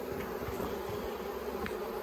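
Dense, steady buzzing of many honey bees close by in a hive box, a continuous droning hum with no voices.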